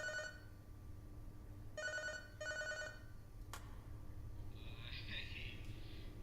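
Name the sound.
telephone ringing in video game Five Nights at Darl's 2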